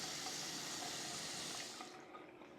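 Water runs from a sink faucet fitted with a Filterbaby filter, a steady close hiss of flowing water that drops to a softer, quieter stream near the end, with no speech.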